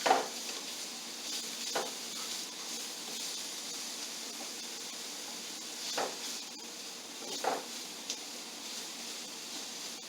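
Shrimp pasta ingredients sizzle in a pan under a constant hiss, with a few scrapes and knocks from stirring spread across the stretch; no voices.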